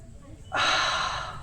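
A single long, forceful exhale through the mouth after holding a deep breath in the chest, bursting in after a quiet moment and slowly fading.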